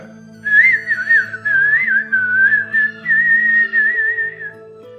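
A man whistles a wavering melody, close and clear, with soft instrumental music playing underneath.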